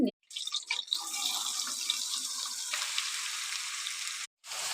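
Drumstick leaves being rinsed under running tap water in a sink: a steady, close splashing stream that runs for several seconds, broken briefly at the start and near the end, with no talking.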